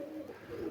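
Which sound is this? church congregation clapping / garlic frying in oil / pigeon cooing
pigeon cooing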